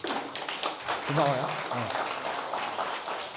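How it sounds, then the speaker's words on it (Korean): Lecture audience clapping in a steady patter that runs through the clip, with someone briefly speaking thanks over it. "박수 한번 보내주시죠."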